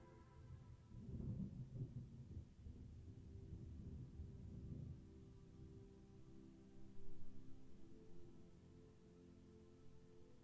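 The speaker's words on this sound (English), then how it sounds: "Heard a roll of thunder." Low, rolling thunder from a thunderstorm rumbles in two swells, strongest early and again near the end, during a quiet, still moment of a yoga session's closing rest.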